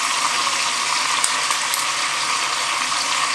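Garlic and onion brown in a slow cooker, giving off a steady, bright sizzle with a few faint clicks and no talking.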